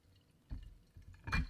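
Elijah Craig whiskey being poured into a glass: a short, quiet liquid splash and drip, with a brief burst near the end, close and alone.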